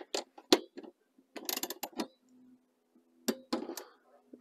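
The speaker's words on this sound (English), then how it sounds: "I'm going to take my torque wrench" Torque wrench tightening seat bolts on a Toyota Tacoma, set to 27 foot-pounds: a few short bursts of ratcheting clicks separated by pauses, close and fairly quiet, with a soft low hum between.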